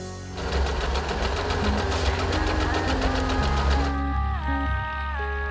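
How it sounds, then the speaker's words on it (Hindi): An Usha Wonder Stitch sewing machine runs steadily, giving a close, continuous rapid whirring hum with a fast mechanical stitching rhythm throughout. "उषा वंडर स्टिच एक बेहतरीन सिलाई उपकरण है, जिससे आप मनचाहे सिलाई पैटर्न्स बना सकते हैं।"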